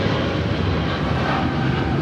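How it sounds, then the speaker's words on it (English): A Boeing 777 passing by at Los Angeles International Airport gives a loud, steady broadband jet roar that holds evenly throughout, with no talk over it. "The 777 is a nice airplane to watch"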